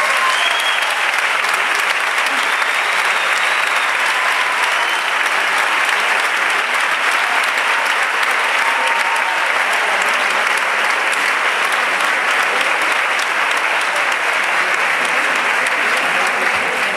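A concert crowd in Almería gives loud, sustained applause for a performer, a thick wall of clapping that stays steady and close throughout, with faint whistles or cheers rising now and then.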